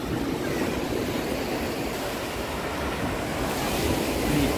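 Surf washes onto Cleopatra Beach in Alanya, Turkey, a steady, moderately distant rush of breaking waves mixed with wind noise on the microphone, with no voices.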